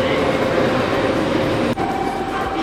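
Steady interior rumble of a Shinkansen bullet train running from Kyoto to Yokohama, a constant low roar with faint rail clatter and one brief dip, heard from a passenger seat.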